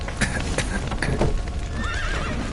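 Horses trapped in a stable with a collapsed roof in The Witcher 3: Wild Hunt neigh and whinny loudly, with clopping hooves and a wavering high cry near the end over dense, noisy background commotion.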